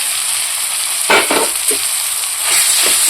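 Potatoes for a masala dosa filling go into a pan of hot spices, with a loud, constant close sizzle and a few bursts of stirring and scraping as they are tossed.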